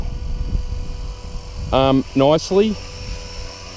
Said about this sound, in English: they are a small helicopter. It's a little bit windy here, so it gets buffed around with the wind a little bit